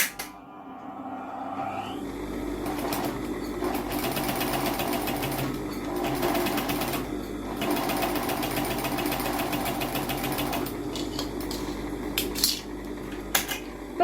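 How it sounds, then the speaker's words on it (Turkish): A sewing machine stitches the seam of a fabric face mask with gathered elastic, humming and rattling steadily and close up, with a few brief pauses and restarts. "Şimdi makineyi açıp dikişi tamamlayacağım ben."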